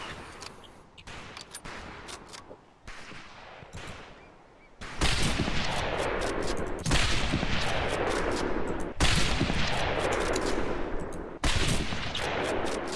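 Rapid bursts of gunfire from the World War II shooter Medal of Honor Pacific Assault fill the scene, starting as quieter scattered shots and then swelling into loud, sustained automatic fire with repeated sharp reports.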